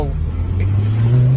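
A decatted 2.5-litre turbocharged five-cylinder with a Miltec back box and a big ram air cone revs up close, its pitch climbing across a short, loud burst.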